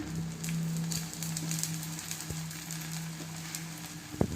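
Atta adai frying in oil on a pan, a soft continuous sizzle with light crackles and a low steady hum, ending in a louder clatter.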